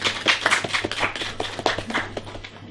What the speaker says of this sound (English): Lovely cricket-like applause there.